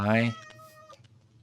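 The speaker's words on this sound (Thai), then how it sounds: "ตรงนี้มี แมวครับ" A single loud Minecraft cat meow opens the moment, short and near, followed by quieter voice sounds as someone talks.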